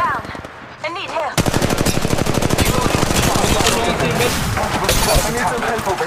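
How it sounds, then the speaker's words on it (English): Rapid automatic gunfire from the mobile battle royale Apex Legends Mobile erupts loud and near after a quieter opening, continuing as a dense, steady stream of shots with brief in-game voice cues mixed in. "The enemy is shooting to kill us"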